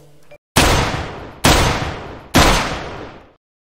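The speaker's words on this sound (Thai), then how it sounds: "มีเสียงปืนดังมาจากบ้านของนายสไลด์" Three loud gunshots from a robber's gun ring out inside a house in a Minecraft cartoon, evenly spaced about a second apart, each a sharp blast with a long, fading echo.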